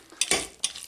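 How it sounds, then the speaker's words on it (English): Food is stirred in a hot pan that is just starting to cook, giving quick scraping and sizzling bursts, close and fairly loud, with no voices. "just keep stirring it up"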